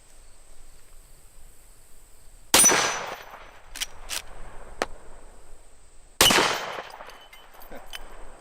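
Two loud, sharp .44 Magnum gunshots firing XTP hollow point rounds ring out several seconds apart, each with a decaying echo, over a quiet outdoor background with faint insect buzzing and a few small impact clicks.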